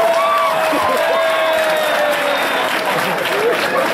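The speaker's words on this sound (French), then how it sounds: "Applaudissez pour la prison du Gabon." A crowd at a gathering claps and cheers in a dense, continuous wall of sound, with voices shouting and whooping through the steady applause.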